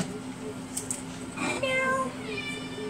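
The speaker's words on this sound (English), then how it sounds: "meow, you want outside, Jackie boy?" A cat meows a couple of times nearby, with rising tonal cries, over a steady low hum and faint background noise.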